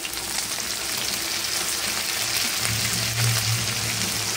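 Chicken frying in a pan for a Bengali-style chicken dish, a steady loud crackling sizzle throughout as turmeric powder goes in, with a slight swell in the low hiss near the end and no voices.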